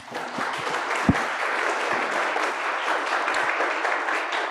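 A lecture audience applauding at the end of a talk on using AI, a steady burst of many hands clapping that holds throughout, fairly near and loud.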